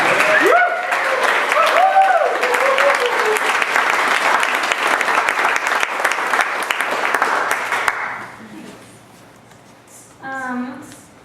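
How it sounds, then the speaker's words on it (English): A seated audience at a literary magazine release party reading gives a sustained round of applause that fills the room, then stops abruptly, followed by brief speech. "I don't think we even give a round of applause for Chris."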